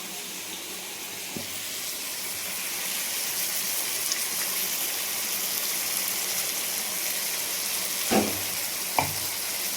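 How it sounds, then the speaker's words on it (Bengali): Ginger, garlic and green chilli paste frying in a pan for yogurt chicken, a steady broad sizzle that swells after a few seconds and holds, with a couple of sharp utensil knocks near the end. "মিক্সি জারে পেস্ট করা আছে আদা, রসুন আর কাঁচা লঙ্কা, এটা এবার অ্যাড করব।"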